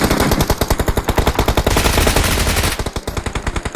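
Rapid automatic gunfire from the BGMI (PUBG Mobile) game rattles out in loud, evenly spaced bursts of close shots, with no pause across the whole stretch.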